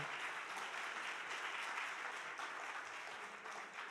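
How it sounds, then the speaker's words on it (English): Steady, dense applause from a large gala audience after a performance, continuous and fairly loud throughout with no voices breaking through. "Another round of applause, please."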